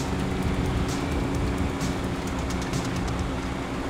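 A train rolling past in Grand Theft Auto 5: a loud, steady rumbling roar with a rhythmic clatter on top holds at an even level throughout, sounding close by.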